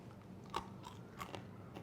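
Crispy, thin, golden-brown baked polenta chips being bitten and chewed up close, giving a few quiet, sharp crunches over about two seconds with no talking.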